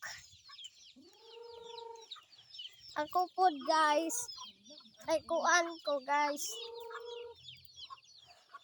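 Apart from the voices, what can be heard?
chickens clucking while being fed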